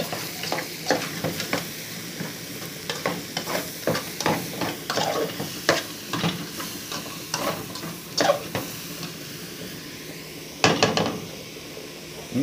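Grated carrot being stirred in a pan with a utensil, repeated scraping strokes in an irregular rhythm over a soft, steady background hiss, fairly close.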